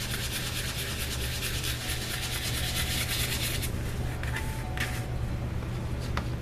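Sepia ink brushed along the edges of a watercolor card, a continuous dry rubbing and scraping close up, steady and fairly loud, with a constant low hum underneath.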